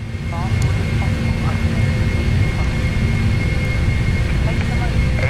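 Boeing 747 jet engines spooling at takeoff thrust in a flight simulator game, a loud, steady, close roar with a high whine, while a voice talks briefly.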